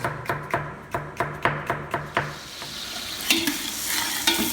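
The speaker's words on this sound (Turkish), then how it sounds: "Pilavımızı tencereye koyduk arkadaşlar kavurmaya." Rice with onion, green pepper and carrot sautéing in a pot, sounding as a steady series of about eight sharp spoon strokes and taps against the metal over a soft sizzle, followed by a louder, hissing frying sound, close and alone.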